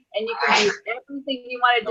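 A sudden nearby sneeze bursts out, followed by a person speaking.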